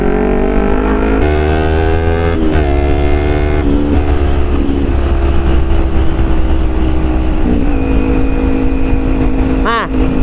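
A Kawasaki Ninja 250Fi motorcycle accelerating hard through the gears, loud and close, its engine tone climbing steadily with several clear shift breaks and pitch drops, wind noise underneath and a brief whine near the end.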